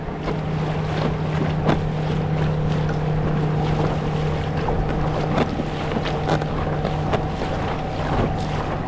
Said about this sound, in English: we've got another speedboat fun